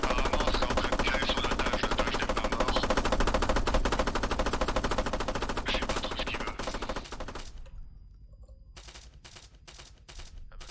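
Sustained automatic gunfire in the video game Arma 3 Altis Life, a dense rapid stream of shots for several seconds that then breaks into a few shorter separate bursts.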